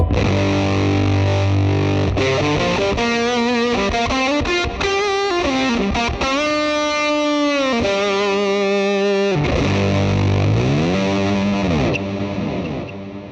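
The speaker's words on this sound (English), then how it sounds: "Nice delay, nice reverb, and a big fat fuzz sound." A heavily fuzzed electric guitar through a Fender Mustang GT amp plays sustained notes and slides, thick and distorted, with delay trails and reverb filling the space.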